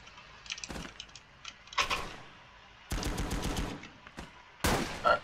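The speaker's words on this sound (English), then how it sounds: "So I can cover those machine guns." Machine gun fire in the war game Call to Arms: Gates of Hell, with several separate bursts of rapid automatic shots, loud and close, including one longer rattling stretch partway through. No one speaks.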